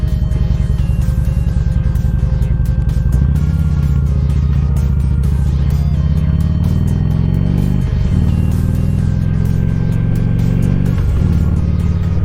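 A motorcycle cruises along, recorded close on an Insta360 One X2 camera, its engine droning loud and steady with rising and falling revs and occasional gear shifts, wind rushing over it and no speech.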